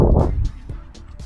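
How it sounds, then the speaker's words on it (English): Gusty wind buffets the microphone outside a luxury custom-built home near the driveway and three-car garage, a loud low rumble that surges at first and then comes in shorter bursts, with no talking. "The wind is blowing, sorry about that noise."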